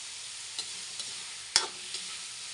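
Tomatoes cooking down in a pot for sinigang sa miso with tuna head, a soft steady sizzle with a few brief stirring clinks and scrapes, fairly quiet and close, no voices.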